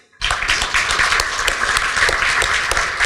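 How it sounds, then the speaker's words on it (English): Audience at a college board of trustees candidate forum bursts into applause after a short silence, with close, loud, dense clapping and distinct individual hand claps continuing steadily. "a huge round of applause, please"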